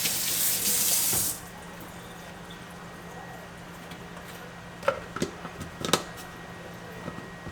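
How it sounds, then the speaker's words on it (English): Kool-Aid container rinsed under a running kitchen sink tap, a loud gush of water for about a second, then the flow stops and a few clunks and taps follow as the container is handled. "Let me rinse it all right there."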